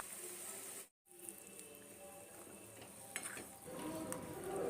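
Egg curry gravy with fried eggs bubbling and sizzling in a pan, a soft, low-level simmer with faint stirring and utensil clinks, interrupted by a brief cut, and no voices.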